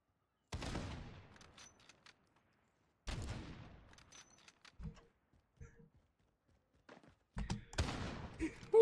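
Sniper rifle shots in a video game ring out as three or four sharp, loud cracks spaced a few seconds apart, each trailing into a decaying echo, with quieter clicks and handling noises in between.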